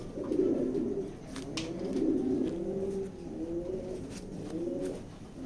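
Grizzle pigeons coo in low, repeated throaty phrases nearby, with faint clicks and rustles in the background.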